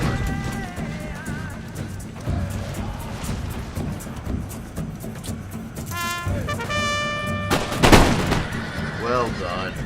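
Musket volley from an infantry firing line in Empire Total War, a crackling burst of many shots with one loud sharp crack standing out over a steady din of battle noise.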